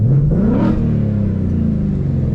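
A 2021 Ford Mustang Mach 1 V8 revs hard while spinning donuts, a loud, close, continuous engine roar that climbs sharply in pitch and then holds a steady high drone.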